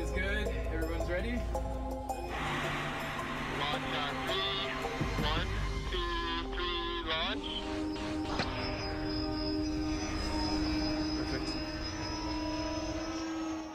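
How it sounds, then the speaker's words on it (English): Propellers on a tethered kite wind-power machine, built like a model airplane, whir at takeoff with a steady, close droning whine that holds through the clip and shifts higher toward the end. "For takeoff, the propellers act like they do on a normal plane."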